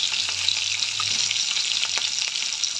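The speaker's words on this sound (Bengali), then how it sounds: "ট্যাংরা মাছ ভাজা হয়ে গেছে" Tangra fish fry in hot oil in a pan with a continuous bright sizzle and crackle, close and even, with faint occasional stirring knocks and no voices.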